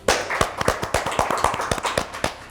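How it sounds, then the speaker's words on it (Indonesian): Hand clapping at a home gathering: a steady run of sharp, close claps, roughly four or five per second, continuing throughout with no talk over it. "Tepuk tangannya ikhlas."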